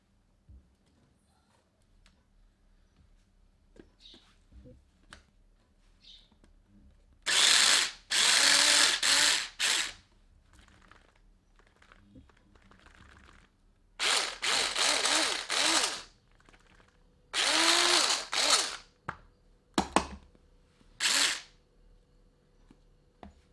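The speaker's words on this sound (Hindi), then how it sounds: "चॉपर में प्याज डालकर काट लेते हैं" An electric chopper whirs in three loud bursts as it chops onions, with short pauses between the runs and quiet gaps before and after.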